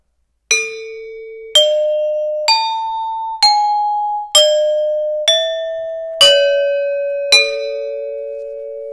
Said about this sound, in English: This is the sound of the gamelan.